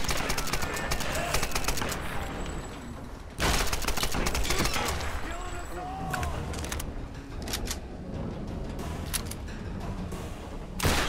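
Gunfire in the Tomb Raider video game on PC: loud booming shotgun blasts in rapid bursts, with sharp impacts and clattering game effects in between, near and dominant.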